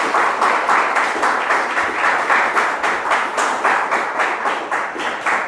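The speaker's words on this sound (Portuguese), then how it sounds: "vamos dar uma forte salva de palmas para o Senhor" A church congregation gives a strong round of applause to the Lord, dense clapping from a crowd sustained throughout with a steady pulsing rhythm, fairly loud and close, no talking over it.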